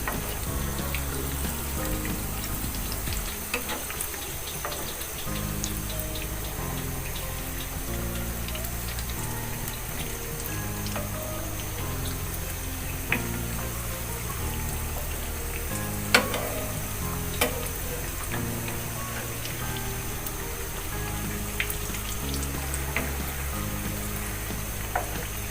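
Egg balls frying in hot oil in a pan as they are turned over to cook the other side, giving a steady close sizzle with soft bubbling and a few light clicks from the turning.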